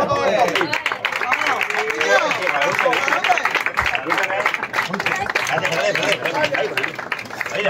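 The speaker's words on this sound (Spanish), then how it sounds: "Y un fuerte aplauso" An audience at a duet performance event in Argüelles applauds loudly and steadily, a dense wash of clapping mixed with crowd babble and shouting voices throughout.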